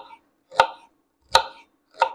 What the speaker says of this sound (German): Ich habe hier noch Stangensellerie und den schneide ich wirklich nur hier so in